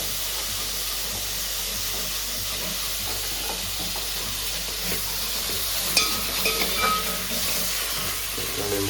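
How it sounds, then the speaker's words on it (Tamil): Tomatoes sauté in a pan for a fish curry, giving a steady close sizzling hiss with a low background hum and a few sharp clinks of stirring near the end. "தக்காளியை போட்டு வதக்கலாம்."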